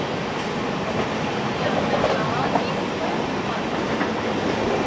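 A Barddhaman–Howrah chord line super local train runs at speed while overtaking, its broad steady rumble and rattle continuous and close throughout, with faint voices underneath.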